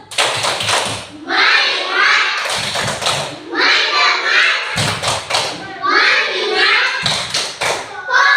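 First-grade schoolchildren in an Indonesian elementary classroom perform the tepuk fokus clapping chant, a loud, rhythmic sequence of sharp claps and thumps in repeated bursts with children's voices chanting along.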